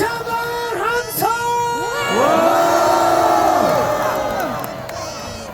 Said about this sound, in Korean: 다시 한번 함성!